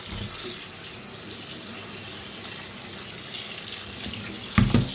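A water tap runs steadily into a kitchen sink, a constant close rushing hiss with a brief clatter near the end.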